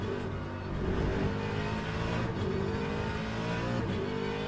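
Race car in Le Mans Ultimate at Portimao accelerates hard with a loud, dense engine roar that climbs steadily through the revs.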